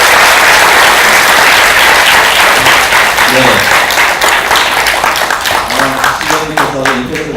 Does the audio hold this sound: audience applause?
yes